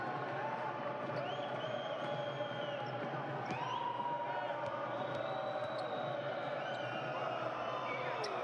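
Crowd noise in a basketball gym during a Champions League game, a steady hum of voices and cheers with squeaking shoes and occasional ball bounces, fairly faint and diffuse.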